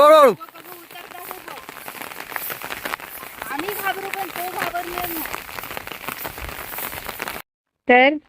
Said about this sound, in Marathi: आता बघा परत सुरू झालाय पाऊस